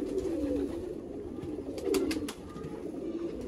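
Red-eyed Kasbi pigeons from the Sialkot border area coo nearby in low, rolling, repeated calls, with a few sharp clicks and flutters between the coos.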